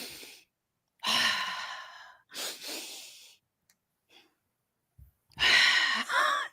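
A person does deep somatic breathing, taking three long, loud exhales and sighs separated by pauses, then a sharp inhale followed by a final heavy sigh, close to the microphone.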